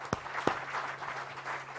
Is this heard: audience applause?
yes